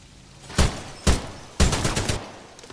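Spitfire machine gun fires in Titanfall 2: two short single shots, then a rapid sustained burst of about half a second, loud and close, with no talk over it.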